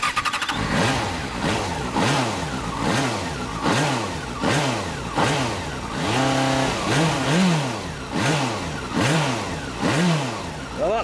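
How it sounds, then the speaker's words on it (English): A Yamaha FZ6 Fazer's 600cc inline four-cylinder, four-stroke, double overhead cam, 16-valve engine is revved repeatedly, each throttle blip rising and falling in a smooth, close, regular rhythm. "There's another silky smooth 600cc inline four-cylinder four-stroke for you."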